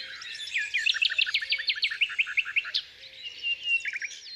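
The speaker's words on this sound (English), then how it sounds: "And it needs this bramble, and that is the nightingale." A nightingale sings from bramble scrub in a rapid run of repeated chirping notes, then a warbled phrase and a short burst of trills. The song is clear and fairly close, with no talking.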